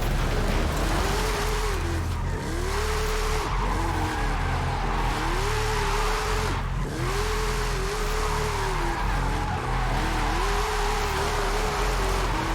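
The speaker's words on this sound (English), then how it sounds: "Let's see if I can hit a full roundabout drift right now." A car in the Forza Horizon 5 video game drifts around a full roundabout, its tires squealing in long continuous wails over a loud, steady engine roar that rises and dips throughout.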